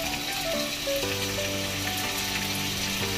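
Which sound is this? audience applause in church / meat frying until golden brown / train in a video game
meat frying until golden brown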